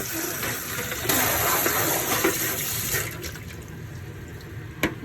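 Tap water runs steadily over lasagna noodles being rinsed in a kitchen sink, a broad continuous splashing hiss that swells around the middle and eases toward the end, with a brief clatter near the close.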